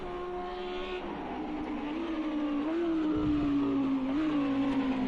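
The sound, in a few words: race car driving on slick tires around the hairpin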